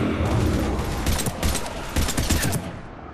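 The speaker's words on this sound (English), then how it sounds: "Shoot him!" Gunfire in the Mass Effect 3 video game: a dense fusillade of rapid shots crackling continuously for a few seconds, loud and close, with no talking.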